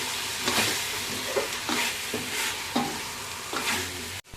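Laksa paste is stirred in a hot pan, sizzling steadily while a utensil scrapes through it in regular sweeps about once a second, close and clear with no talking.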